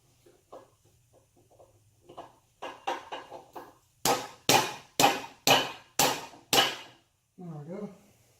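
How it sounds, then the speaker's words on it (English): A hammer strikes the rear gear of a budget LS-swapped street/strip Foxbody Mustang into place: a few light taps, then six loud, evenly spaced metallic blows close by, followed by a brief scraping sound. "Maybe we can give it a couple slaps with a hammer"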